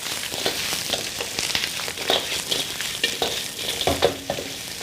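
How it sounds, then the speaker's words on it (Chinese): Oxtail bones stir-fried in hot oil over high heat sizzle loudly, with repeated scraping and clattering strokes of a spatula in a wok, close up and steady, with no talking. "7成油温的时候下牛骨头。 用大火给它煸炒，"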